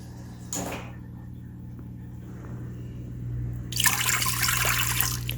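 Water poured into an Instant Pot for making Indian yogurt, a short bright splashing pour near the end over a low steady hum, preceded by a brief clatter.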